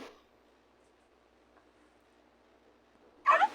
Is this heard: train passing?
no